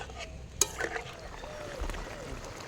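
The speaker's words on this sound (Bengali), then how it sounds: "এবার আমি নাড়াচাড়া দিয়ে কিছুক্ষণ আমি ফুটিয়ে নেব" A spoon stirs a simmering cabbage and egg curry with added water in a pan, soft scraping and gentle bubbling with one sharp clink, fairly quiet and steady.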